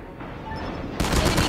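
HS2126 shotgun fire in a mobile shooter video game: a quieter stretch of distant shots, then a loud close blast that opens into sustained rough gunfire.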